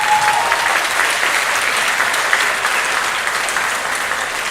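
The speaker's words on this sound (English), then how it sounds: "So give them a round of applause." An audience at an elementary school moving-up ceremony applauds in a dense, continuous wash of clapping that stays loud and even throughout, with no talk over it.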